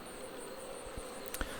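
Honeybees buzz around hive frames being worked with no smoke on a hot day, a steady close drone with a brief louder pass near the end and no talk.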